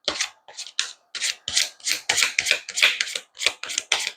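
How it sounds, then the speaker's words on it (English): Tarot cards are shuffled by hand in a steady series of about a dozen quick rasping strokes, close and fairly loud, with no talking. "One more shuffle, and then we'll end it."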